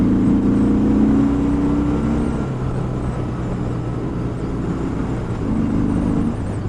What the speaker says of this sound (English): Third gear, bike wants to go.